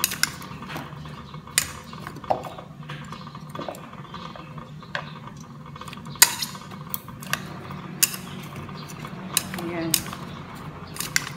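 A utensil stirs and mixes pumpkin ingredients in a bowl before steaming, with steady scraping and frequent bright clinks against the dish, close and continuous.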